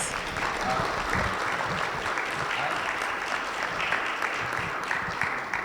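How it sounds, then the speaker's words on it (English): An audience at a justice panel event applauds the panelists with a thick, continuous roar of clapping that holds steady and loud for several seconds, with some voices mixed in. "Can we give our panelists another round of applause?"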